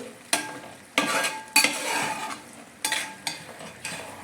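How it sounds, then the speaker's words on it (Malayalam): Prawns (konju) frying in a pan while being stirred, with several sharp scraping strokes of a spatula over a continuous close sizzle, no voices. "ഒന്ന് ഇളക്കി നോക്കാം."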